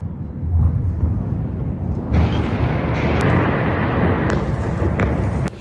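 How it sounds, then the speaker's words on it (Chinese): A missile strikes an apartment building in Gaza and it collapses, a loud, sustained rumbling roar heard from several streets away, with sharp crackling and tinkling breaks near the end. "目击镜头记录下公寓被飞弹轰垮的瞬间"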